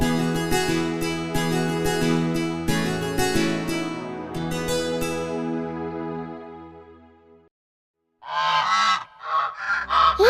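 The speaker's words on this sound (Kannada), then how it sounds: "ಆ ಶಬ್ದ ಏನದು? ಅದು ಬಾತುಕೋಳಿ ಶಬ್ದ ಪಪ್ಪು." Ducks call in a few harsh, honking quacks near the end, after a bright musical passage fades out into a short silence.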